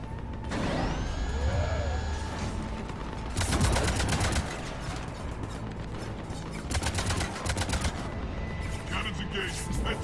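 Ship cannons fire in Mass Effect Legendary Edition, with several bursts of rapid, rattling volleys over a steady mechanical hum and rising whine.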